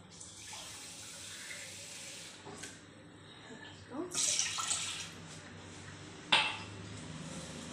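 Water runs and splashes into a glass from a tap in a home kitchen while a cake sauce is being made, with bursts of pouring around the middle and a sharp clink near the end against a quiet background.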